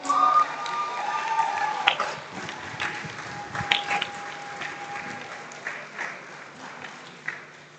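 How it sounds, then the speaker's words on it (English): An audience at a powerlifting tournament applauds a 105 kg podium with a burst of clapping that peaks early, then thins into scattered, fading claps, with a few faint calls. "Ladies and gentlemen, a round of applause"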